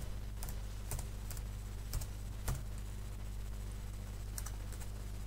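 Computer keyboard being typed on while an Excel formula is entered, giving scattered, quiet, crisp key clicks in small irregular clusters over a faint steady background hum.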